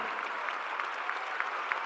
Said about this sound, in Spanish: Pido un aplauso de pie para ese gigante de la vida nacional